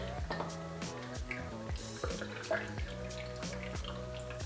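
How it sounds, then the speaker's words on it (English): Liquid is poured into a cocktail shaker packed with ice, giving a faint, uneven trickle of splashes and drips, with a quiet voice speaking at moments. "And now we simply pour in our shaker."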